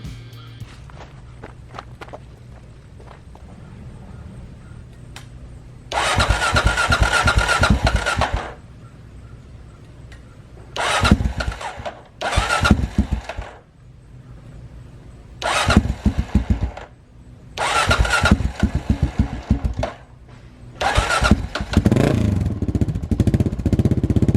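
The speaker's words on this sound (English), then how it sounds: "turn the bike over with a fresh battery and see if our electric start works and see if this bike will fire up" A 1990 Kawasaki KLR 650 dual sport motorcycle is cranked on its electric starter with a fresh battery, several loud close bursts of starter grinding and sputtering, separated by quiet pauses, before the engine catches and runs at the end.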